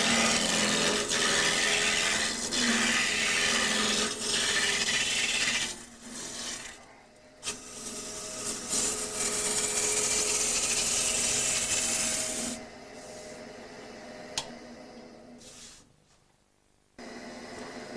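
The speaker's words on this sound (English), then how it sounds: "A 1/4 inch roughing gouge saves time when reducing the stock from a square." Quarter inch roughing gouge cutting square wood stock on a spinning lathe, a steady loud scraping hiss with rough chattering, breaking into short gaps and quieter stretches toward the end.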